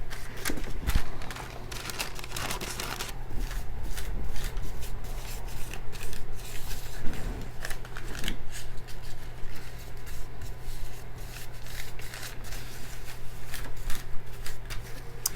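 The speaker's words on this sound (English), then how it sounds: "we're going to put some slits in here just to relieve the tension from the paper" Scissors snip slits into paper close by while making a faux antique mirror, short cuts repeating with soft rustling throughout.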